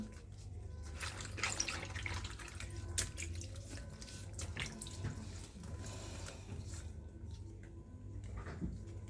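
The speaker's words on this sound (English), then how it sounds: "You wash the back of the leaves as well as the front, and you put it in the second water." Leaves are rinsed one by one in water at a sink, giving soft, faint splashing and trickling with small drips throughout, quiet and unbroken by talk.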